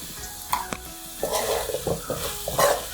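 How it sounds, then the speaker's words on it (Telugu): Drumstick curry being stirred in a pan as it cooks: close, scraping stir strokes and clinks over a continuous sizzle, with several louder bursts of mixing. "మునక్కాయలు వేసేసి అంతా ఒకసారి కలుపుకొని ఇప్పుడు కొద్దిగానే ఉప్పు వేసాం కదా"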